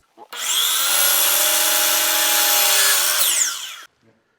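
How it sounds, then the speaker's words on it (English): A power drill bores a pilot hole into the bottom of a wooden stair railing for an angled rail bolt, one loud continuous whine lasting about three seconds, close up with no talk. "I have to drill a pilot hole in the bottom of this railing for the angled rail bolt to work."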